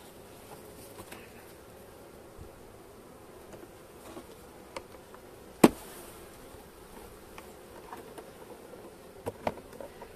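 Honeybees buzz at a beehive in Trabzon in January, a faint low hum running throughout with a sharp knock near the middle and a couple of small taps near the end, no speech.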